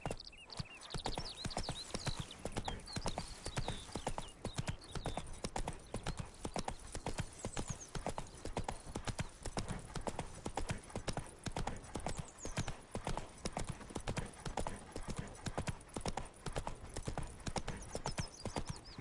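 Roach the horse from the video game The Witcher trots along, a steady close rhythm of clip-clopping hoofbeats throughout, with faint game ambience and no talk.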